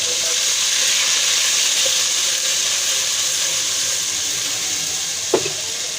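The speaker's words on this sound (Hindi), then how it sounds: "इसमें सबसे पहले लहसुन का पेस्ट डालेंगे। इसको अच्छी तरह भूनना है इसको।" Garlic paste frying in hot oil gives a steady broadband sizzle that holds evenly throughout, with one sharp clink near the end.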